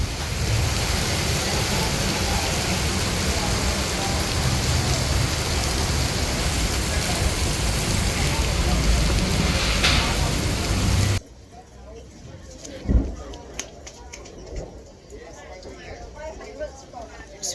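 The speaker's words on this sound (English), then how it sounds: "It's raining so heavily" Heavy rain pours at Chatuchak Weekend Market in Bangkok, a loud dense roar that abruptly drops to a quieter patter with scattered knocks and distant traffic.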